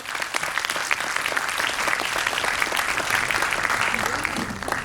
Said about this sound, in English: Please give a big round of applause to Varun Toshniwal, the head boy.